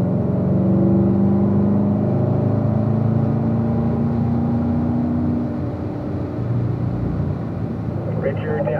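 Race car building pace through corners on a track, with downshifts and throttle changes; a loud, steady engine drone with shifting pitch, under continuous talk.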